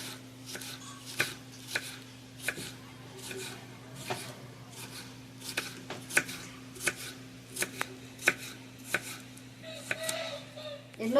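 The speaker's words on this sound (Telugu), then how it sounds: "సన్నగా కోసుకోవాలండి" Ivy gourd being sliced thinly on a board, a steady run of crisp knife chops repeating about every half second, close and fairly quiet over a low steady hum, with no talking.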